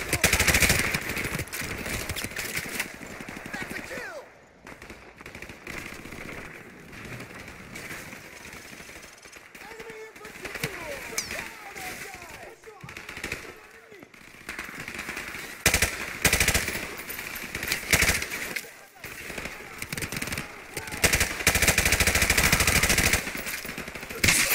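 Rapid automatic gunfire from Call of Duty: Modern Warfare Remastered rattles in dense, sustained bursts, loud and close, with a few short gaps and heavier firing toward the end.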